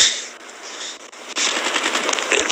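Rapid automatic rifle fire in Call of Duty Black Ops 3 zombies mode, loud close bursts of shots that thicken after a brief lull, with no talk.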